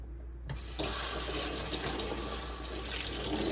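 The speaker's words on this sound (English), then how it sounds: "So I'm just going to rinse this." Running water from a tap rinses degreased motor parts in a sink, a steady broadband splash that starts after a brief quiet opening and continues evenly throughout.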